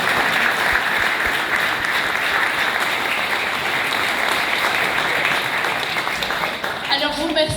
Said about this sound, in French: je pense qu'on peut vous applaudir